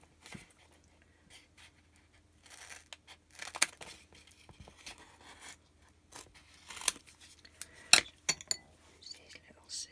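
Small scissors snip through craft foam in short, quiet, close cuts that come in scattered bursts. There are soft rustles and handling noises between them and some faint speech.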